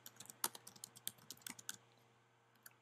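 Rapid clicking on a computer keyboard, a short flurry of crisp, close keystrokes with uneven rhythm over nearly two seconds, then silence broken by one or two final taps, over a faint steady hum.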